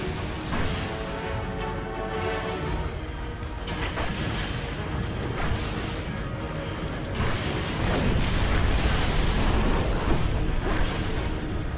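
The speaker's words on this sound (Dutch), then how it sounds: "zie jij een ontploffing in de achtergrond." A dense, loud wash of rumbling booms and crackling blasts from the video game Destiny: Rise of Iron, continuous explosion noise filling the whole stretch with no pauses.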